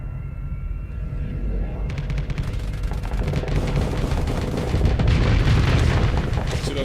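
Starsector ship guns fire in a steady barrage of booms and gunfire, growing denser and louder after the opening seconds, with continuous rumbling blasts throughout.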